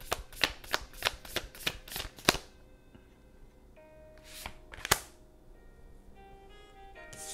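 Tarot cards shuffled in a quick series of about seven crisp riffling snaps, followed by a couple of sharper slaps as cards are drawn and laid down, close and fairly quiet, with no talking.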